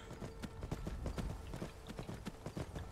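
Horse hooves clip-clop in a steady, brisk rhythm while riding in the video game Skyrim, close and continuous over a low ambient background.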